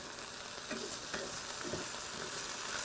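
Pork fried rice sizzles faintly in a pan as chopped parsley is stirred through, a soft continuous crackle with a few light scraping strokes, no voices.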